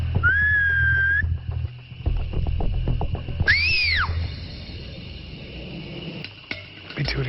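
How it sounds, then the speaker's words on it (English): A person whistles outdoors in the woods trying to call a Sasquatch: two rising-then-falling whistled calls, the first sustained, the second a sharp swoop after a pause, over rustling and low background rumble. "Let me do a little whistle."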